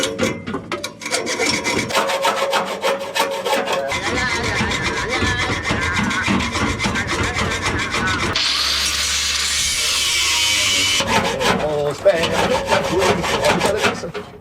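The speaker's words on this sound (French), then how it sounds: "je vais finir à la scie à métaux" A hacksaw cuts through a stainless steel Magnaflow exhaust pipe under a pickup truck, with close, rapid, rhythmic rasping strokes that go on steadily, pause, and then resume with grinding metal scrapes.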